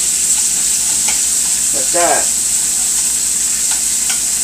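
A steady, close sizzle of chicken strips frying in a pan fills the background while someone speaks briefly over it.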